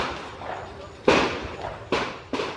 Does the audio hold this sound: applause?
no